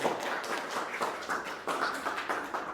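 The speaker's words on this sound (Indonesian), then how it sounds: "silakan tepuk tangan untuk kelompok 3" Classmates clap for a presenting group during a microteaching class session, a steady, dense patter of hand claps running throughout at moderate loudness.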